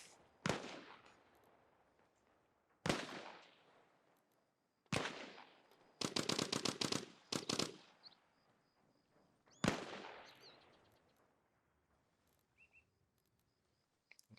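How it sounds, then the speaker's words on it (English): Machine gun fire from a military shooter video game comes in sharp, loud bursts: single cracks, a rapid rattling string in the middle, then another crack fading into quiet, with no talk. "This guy actually have a machine gun here?"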